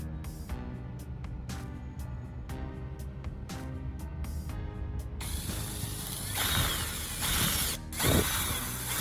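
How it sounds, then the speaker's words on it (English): Power drill driving screws into the handle of a homemade welding machine, a steady close whir with short bursts and ratcheting clicks, growing harsher and louder toward the end, with no talk. "let's drive the screws in and secure it"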